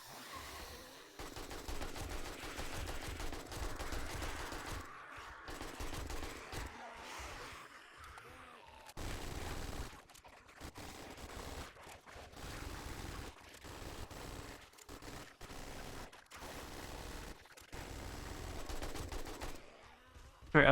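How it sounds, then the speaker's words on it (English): AK rifle fire in the game 7 Days To Die comes as repeated bursts of quiet gunshots with short gaps between them, continuing for around twenty seconds. "I've been shooting almost constantly all night"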